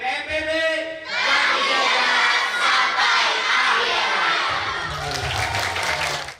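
Workshop participants clapping and cheering together in a hall, a loud crowd burst of applause and shouts following a brief voice, then continuing and rising again near the end.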